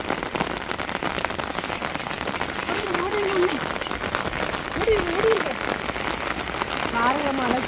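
Sudden heavy rain in a village pours steadily onto surfaces as a dense, continuous hiss, with people talking and calling out over it throughout.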